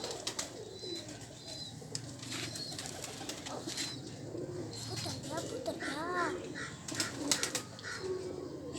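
Pigeons kept by a pigeon keeper in Faisalabad coo in soft, repeated rolling calls close by, with occasional wing flaps and chirps. People talk quietly in the background.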